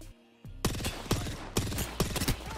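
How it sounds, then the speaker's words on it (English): Several sharp bursts of automatic gunfire from Apex Legends, each a quick rattling volley, repeat in fast succession with brief gaps, loud and close, with no talk over them. "Shooting him now."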